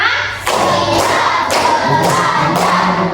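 Students in a class clap in unison to a counted rhythm, roughly five full, thudding group claps spaced evenly about half a second apart, close and loud.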